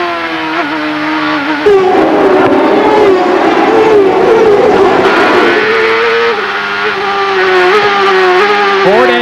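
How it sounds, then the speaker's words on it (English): A Ford-powered CART IndyCar race car engine screams at high revs during a 1997 race at Surfers Paradise, loud and sustained with pitch shifts as it changes gears, with commentary over it. "Let's listen to the beautiful music of this Ford engine."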